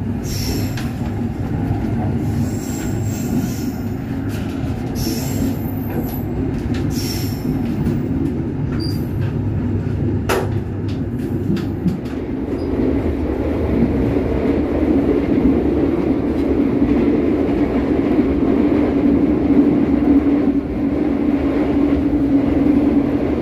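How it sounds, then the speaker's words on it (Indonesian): The Kahuripan passenger train rolls along the rails with a loud continuous rumble, wheels squealing and ticking early on, then a steadier heavier roar building toward the end, heard from on board. "perjalanan kereta api Kahuripan saat ini telah tiba di stasiun"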